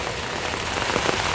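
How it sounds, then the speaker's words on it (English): Rain falling steadily and intensifying outdoors, a dense, continuous hiss of drops with scattered louder patters, no voices. "That rain is really starting to pick up right now."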